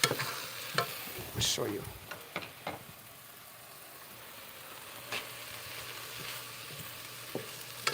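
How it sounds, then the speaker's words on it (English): Garden kale is stirred in a hot pan with a Scotch bonnet pepper, giving a steady sizzle punctuated by several clattering scrapes and knocks of the utensil early on, with a brief spoken line at the start. "Let me stir this up before I do that. Let's stir the kale."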